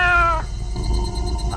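Cat meowing in a horror video game, a loud, drawn-out close meow that breaks off, then a low, droning, eerie ambience with no talking.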